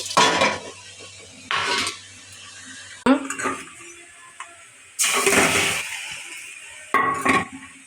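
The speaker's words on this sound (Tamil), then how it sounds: "வெண்ணெய் நல்லா மெல்ட் ஆகிற வரைக்கும் கைவிடாமல் கிண்டிக்கிட்டே இருக்கணும்" Butter melting in a pot while being stirred, with several loud bursts of metal utensil scraping and clattering against the pot over a faint sizzle, separated by quieter gaps.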